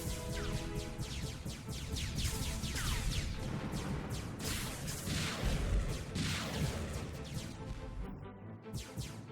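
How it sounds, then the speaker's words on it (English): Continuous rumbling barrage of explosive rocket fire and crashing booms from a weapon in a space shooter video game, dense and loud throughout with repeated sweeping whooshes. "LT does like this weird rocket thing"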